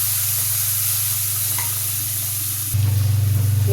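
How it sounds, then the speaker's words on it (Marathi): Fenugreek leaves fry with garlic paste in a pan, giving a continuous close hiss and sizzle over a steady low hum that shifts slightly partway through. "आता मेथीची भाजी खमंग भाजून घ्यायची"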